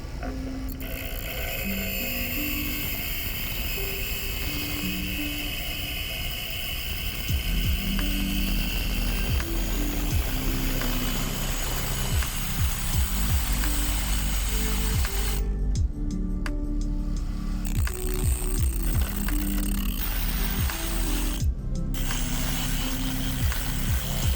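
A tool shaves down a car key blade with continuous rough grinding and ratcheting mechanical noise, loud and close, growing heavier partway through with brief dropouts near the end.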